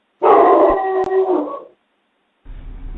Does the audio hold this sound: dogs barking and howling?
yes